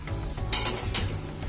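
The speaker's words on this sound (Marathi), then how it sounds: "म्हणून तेलामध्ये तिखट टाकायचं" Red chili powder hits hot oil while making Satara-style misal pav, giving a short hissing sizzle with two bright spikes as it is stirred in a pan, close up.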